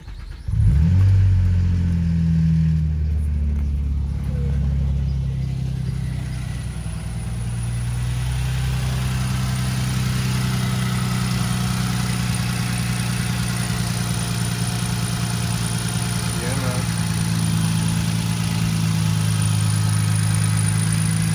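A car engine in a 6MT car fires up after an oil change, revs loudly at first, then settles into a steady idle that runs on for a long stretch, close and continuous.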